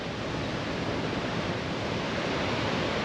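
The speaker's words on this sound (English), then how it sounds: "But look at those waves." Ocean waves crash continuously on Panama City Beach in Florida under a single red flag, a dense, steady roar of surf with no voices.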